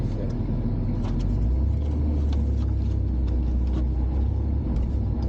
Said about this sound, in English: this is a first edition with the V6 engine and a 6-speed manual gearbox